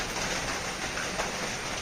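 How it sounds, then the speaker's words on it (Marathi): Steady rain falls in Kerala after an overnight downpour, a continuous broadband wash of drops with no pauses and no voices over it. "आता थोडा पाऊस कमी झालाय जोर कमी झालाय पण पाऊस चालूच आहे"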